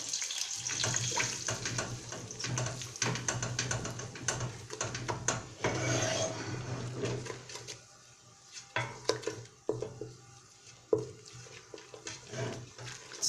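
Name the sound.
water running from tap while washing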